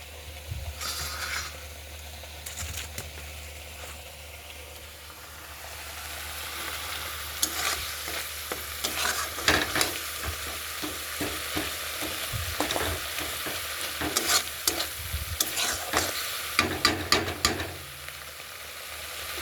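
Boiled vegetables being stirred and fried in a pan, with soft sizzling under repeated scraping and clanking strokes of a spoon that grow busier and louder toward the end, with no voices.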